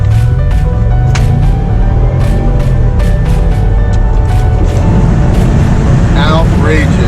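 A supercharged Range Rover Sport pulls hard from a standstill, its engine note climbing steadily while heavy wind buffeting roars over it throughout.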